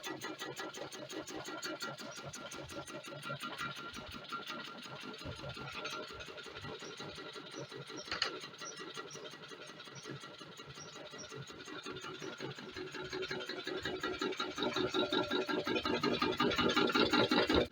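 A horizontal alpha Stirling stationary engine with reduced compression ratio runs steadily, a rapid, even mechanical chugging and rattling up close that grows slightly louder toward the end.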